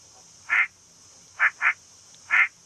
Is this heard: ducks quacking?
yes